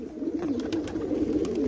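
Pigeons coo in a continuous low, throaty murmur, close by and steady, with faint rustling now and then.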